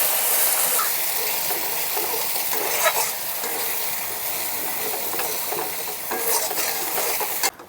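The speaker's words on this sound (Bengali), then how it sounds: "পোস্তর এই মশলাটাকে বেশি ভাজা ভাজা করব না" A paste of ground poppy seeds, ginger and green chillies frying in hot oil for aloo posto, a loud, continuous close sizzle with occasional scraping stirs in the pan.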